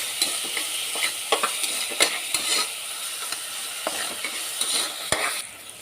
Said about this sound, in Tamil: ஒரு ரெண்டு நிமிஷம் வதக்கட்டும்